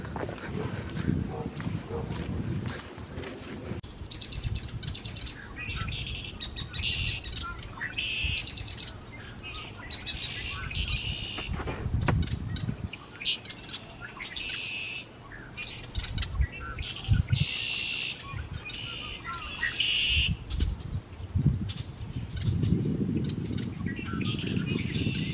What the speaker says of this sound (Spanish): allá hay cantidad de pajaritos